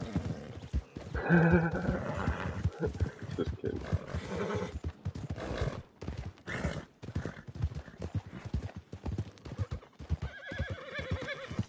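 In the video game Red Dead Online, a horse neighs loudly while hooves clip-clop steadily, mixed with talking throughout; another whinny rises near the end.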